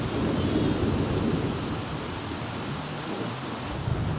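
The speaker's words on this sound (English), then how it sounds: "the storm is so loud" A steady, loud thunderstorm with heavy rain fills a scene in The Sims 3, with a continuous dense hiss of rainfall and low rumbling thunder throughout.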